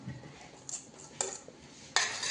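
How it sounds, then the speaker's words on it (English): Mango pulp and sugar syrup are mixed slowly in a pot while making jam, producing faint, sparse clinks and scrapes of a utensil against the pot in a quiet room, with a louder knock at the end. "to mix it slowly when you boil it."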